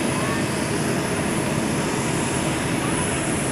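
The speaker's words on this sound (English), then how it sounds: "the C-17 is this time going to make a maximum effort landing" A C-17 transport aircraft making a maximum effort landing at an air show, heard as a loud, continuous broadband engine roar that holds steady throughout.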